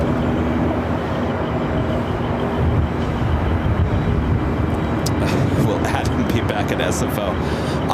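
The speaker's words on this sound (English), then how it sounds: "Our next arrival is JetBlue Flight 2801 and coming in from Fort Lauderdale." A JetBlue A321 arriving at LAX from Fort Lauderdale gives a loud, continuous jet roar with a slight swell partway through, while voices talk over it.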